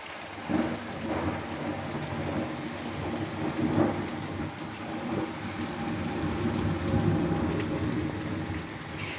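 Low thunder rolling and rumbling through steady heavy rain, a continuous downpour with deeper swells of thunder rising and fading.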